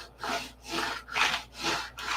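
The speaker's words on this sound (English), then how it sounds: "Now the ends are going to have to be hand sanded." A wooden part of a P-47 control-line stunt model plane is hand sanded in steady back-and-forth strokes, four to five even rasping passes, close and clear with no talking.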